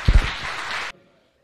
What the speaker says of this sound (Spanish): Por favor, démosle un aplauso a Javier.